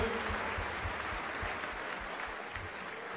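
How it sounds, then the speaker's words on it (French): An audience at a French-language political ball applauds elected officials with dense, steady clapping that fills the whole stretch at an even, moderately loud level, with no pause in the sound. "Levez-vous qu'on vous applaudisse."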